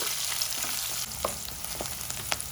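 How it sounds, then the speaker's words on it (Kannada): Onions, dried chillies and curry leaves fry in oil after the mustard seeds have popped, producing a continuous crackling sizzle with scattered sharper pops and light stirring clicks. "ಸಾಸಿವೆ ಸಿಡ್ದಿದೆ ಈರುಳ್ಳಿ ಒಣಮೆಣಸಿಕಾಯಿ ಕರಿಬೇವು ಹಾಕೊಳ್ತಾ ಇದ್ದೀನಿ ಈರುಳ್ಳಿನ ಚೆನ್ನಾಗಿ ಫ್ರೈ ಮಾಡ್ಕೊಳ್ಬೇಕು"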